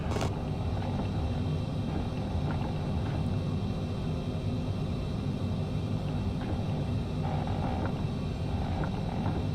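In Microsoft Flight Simulator 2020, an airliner taxis to the gate with a steady low engine rumble and hum, fairly loud and continuous, with a few faint clicks over it.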